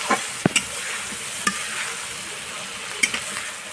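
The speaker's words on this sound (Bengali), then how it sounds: "মশলা দিয়ে দিচ্ছি, মশলাগুলো ভালো করে ভাজে নেব" Ground spice paste fries in a pan after the onions, giving a steady, soft sizzle broken by a few sharp clicks of a spoon stirring against the pan.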